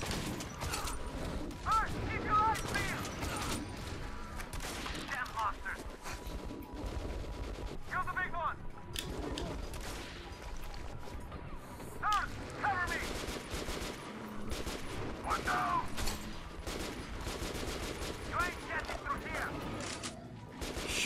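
Constant gunfire in Metro Last Light Redux, rapid overlapping shots and clatter mixed into a busy, chaotic combat din that runs the whole time, dense and fairly loud throughout.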